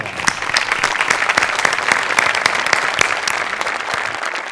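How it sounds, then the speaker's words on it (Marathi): An audience at a Marathi comedy show gives standing applause, a loud, close, continuous patter of many hands clapping from start to finish. "तुझ्यासाठी उभं राहून टाळ्या"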